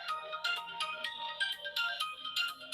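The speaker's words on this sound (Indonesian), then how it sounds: "banyak banget sih ya telepon asing" A mobile phone ringtone plays an incoming call from an unknown number, a bright repeating electronic melody with steady rhythmic pulses, fairly close and alone without talk.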